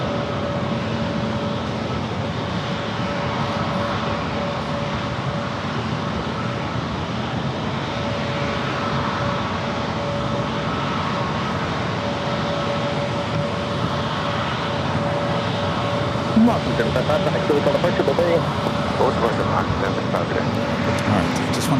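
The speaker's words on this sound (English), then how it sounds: "Next, for departure is the Delta A321neo flight heading back to JFK." A Delta Airbus A321neo departs San Diego airport for JFK, its jet engines a sustained, heavy broadband roar with a faint steady whine, swelling slightly toward the end.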